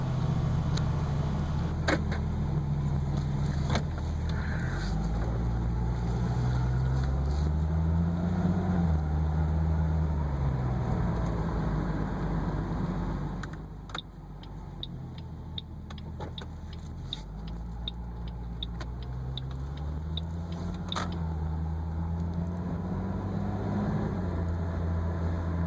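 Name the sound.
Ford Mustang driving during speedometer calibration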